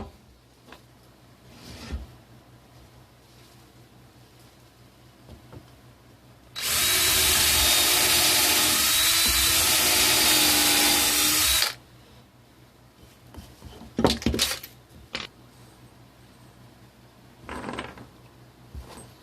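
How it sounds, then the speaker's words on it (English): A power drill bores a hole in wood for a cat tree shelf, one steady whirring burst lasting about five seconds, loud and close, with quiet clicks and handling knocks before and after. "So you get the first hole drilled."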